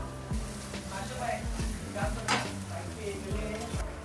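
Coarsely ground peas sizzle in a hot pan while being stirred, with steady frying hiss and repeated scraping of a spoon against the metal, close and continuous.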